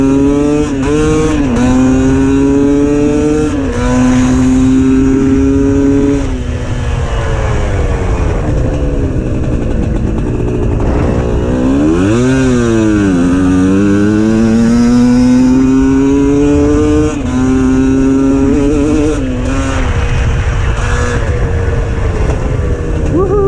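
A GPX TSE 250R motorcycle engine roars loudly while riding, its pitch climbing and dropping through repeated accelerations and gear changes, with a strong rev-up and drop near the middle and wind rushing throughout.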